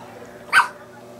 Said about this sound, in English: We travel with our dog,